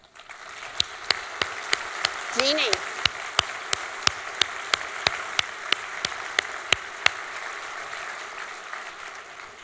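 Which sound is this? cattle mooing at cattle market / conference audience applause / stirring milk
conference audience applause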